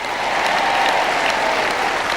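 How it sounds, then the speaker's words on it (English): A crowd at a world bowls championship medal ceremony cheers and applauds steadily for Scotland's Alex Marshall, a dense, continuous wash of clapping that holds level throughout. "wait to hear the cheer when they mention Alex Marshall's name"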